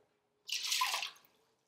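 Water poured from a cup into an electric egg cooker, a short splashing gush of about one second that rises quickly and tapers off, close and alone with no talk.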